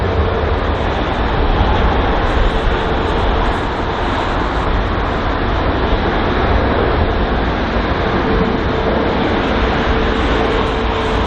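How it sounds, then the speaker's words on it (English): A jet airliner in Star Alliance livery taxis to its gate at London Heathrow, a steady broadband engine roar with a faint whine that holds constant and loud throughout, no voices. "the Star Alliance livery just in front of us now, just taxiing to its gate"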